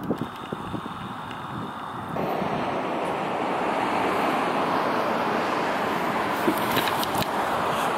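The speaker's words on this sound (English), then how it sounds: "We got a little breeze that came up there." A steady roar of wind buffets the microphone beside an open Cadillac, rising and thickening after the first couple of seconds into a continuous rushing gust that fills the whole clip.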